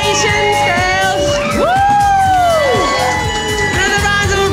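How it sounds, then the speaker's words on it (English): Wedding guests cheering and whooping for two newlywed brides, a loud, close crowd of yells and rising whoops with speech mixed in and no clear clapping. "Another round of applause for Sean and Anna!"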